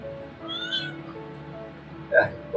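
A cat meows a few times at close range, short mewing calls over a low rumbling background with faint speech nearby.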